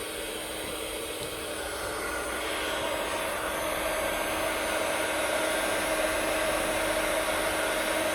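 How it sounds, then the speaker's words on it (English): A heat gun blows steadily while melting embossing powder on a handmade card, a continuous loud hiss-and-whine that holds throughout and swells slightly, with no voices. "I'm just going to turn my heat gun on."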